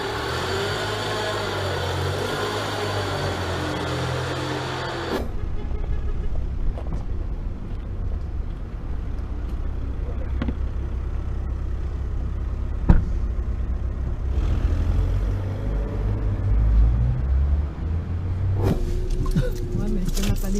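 A car drives along the road on the way to the airport, a low steady rumble from the cabin with bursts of wind buffeting the microphone.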